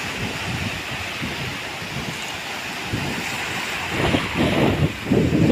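Strong wind buffets the microphone at the seashore while sea waves roll and surge, the roar swelling louder toward the end, with no voices.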